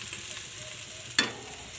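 Turmeric-coated potatoes drop into hot mustard oil with a sudden burst of sizzle, rising sharply then settling into a steady, close frying hiss.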